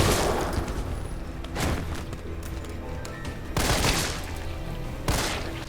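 Magnum revolver fired in Resident Evil 3 (2020): several loud, sharp blasts with booming tails, spaced about two seconds apart, close and dominant over a faint game background.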